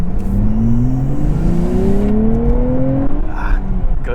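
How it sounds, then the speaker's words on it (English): A brand-new 2023 Nissan Z sports car in sport mode accelerates hard, its engine note climbing steadily in pitch through a gear, loud and close from inside the cabin. "Let's see how this brand new Nissan Z handles."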